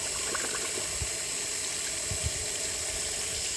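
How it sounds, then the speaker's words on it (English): Water flushes steadily through the casing of a Kodiak water pump, a constant rushing, gurgling flow with a few low splashes and knocks, loud and close throughout. "I'm just running some water through it."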